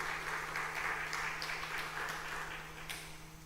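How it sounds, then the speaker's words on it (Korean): A church congregation claps together, a fairly faint, steady patter of applause that fades slightly toward the end, with a low hum underneath. "영광의 박수 올립시다."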